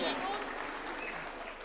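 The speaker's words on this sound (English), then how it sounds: "A round of applause for Leader of Majority Makofi." Crowd applause for the Senate majority leader at a UDA National Governing Council gathering at State House, Nairobi: a steady, dense wash of clapping, moderately distant, filling the whole short stretch.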